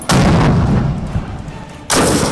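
A grenade launcher fired by border rangers at a target on a range: two loud, booming blasts, one at the start and another near the end, with a rumbling decay between them.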